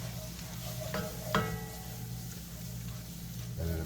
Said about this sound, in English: We're going to take our wooden spatula. We're going to work the bottom of that pan.